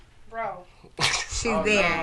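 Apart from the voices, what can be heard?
sneeze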